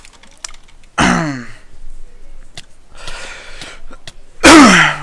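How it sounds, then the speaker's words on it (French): Two loud, explosive coughs or sneezes a few seconds apart, close to the mic, with soft clicking and breathy noises between them. "Ah désolé un petit peu, si je tousse un petit peu"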